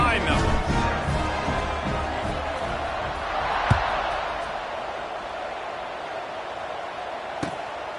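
A college football stadium crowd at a Hawaii versus UTSA game roars as the kickoff approaches with the home side up 28-7, a broad steady wash of cheering, with a commentator talking over it.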